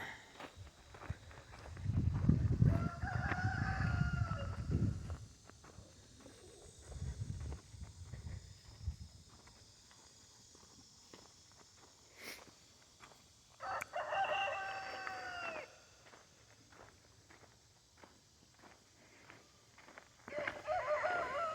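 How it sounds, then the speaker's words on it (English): A rooster crows twice, once early and once later, amid soft clucking hens and scattered footsteps shuffling nearby in a quiet yard. "Got a lot of chickens out."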